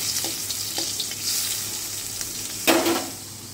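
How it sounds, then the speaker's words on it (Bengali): Paneer frying in butter in a pan, an even, moderate sizzle with a few light stirring scrapes and a brief louder burst near the end. "তার মধ্যে এর মধ্যে পনিরগুলো একটু ভেজে তুলে নেব।"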